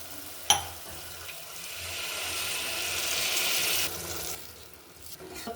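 Water poured into a pressure cooker holding stuffed bitter gourds, a steady hissing splash that swells after a sharp clunk, then cuts off and fades into quieter kitchen sounds, close and clear with no talking.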